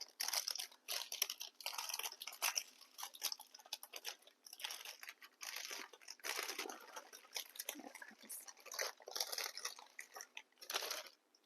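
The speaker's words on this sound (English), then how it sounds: "gently peel off the parchment paper" Parchment paper peeled away from a warm baked Black Forest cake roll, giving close, continuous crinkling and crackling with irregular bursts of tearing and rustling, no talking.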